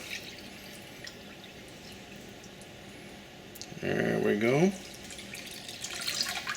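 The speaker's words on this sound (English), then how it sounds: "we're going to finish covering everything with water." Tap water pours into a large stock pot to cover beef bones and meat for Korean bone broth, a short splashing rush lasting about a second amid quiet kitchen ambience, with a person speaking briefly.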